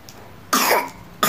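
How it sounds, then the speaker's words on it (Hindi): A single loud, raspy cough up close, followed by the start of another. "खांसी भी आ रही है"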